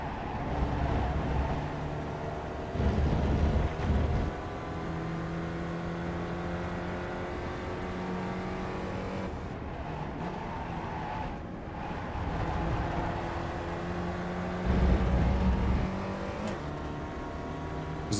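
A Spec Racer Ford engine in the iRacing sim drones loudly at high revs through a race at Road America, climbing and dropping as gears shift, with several surges of acceleration and no talking.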